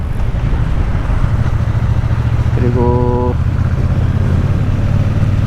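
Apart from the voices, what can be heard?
Triumph Bonneville T120 motorcycle stock exhaust sound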